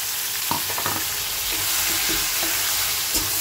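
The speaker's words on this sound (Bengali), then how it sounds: "মশলাটা ভালো করে কষিয়ে নেব।" Onion, ginger, green chilli and tomato paste sizzle and fry in oil in a pan as a spice paste is cooked down for salmon, with a steady hiss and occasional stirring scrapes and light clicks, close and alone.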